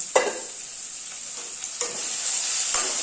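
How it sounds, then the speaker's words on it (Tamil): Two tomatoes sauté with cumin and fennel in a hot pan, giving a steady bright sizzle close up, broken by three quick scraping stirs of a spoon; no voices. "இந்த ரெண்டு தக்காளி சேர்த்து வதக்கிக்கலாம்"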